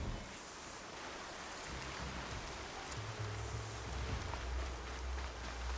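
Steady, soft rainfall in a video game hisses evenly throughout, with a low rumble underneath and no voices.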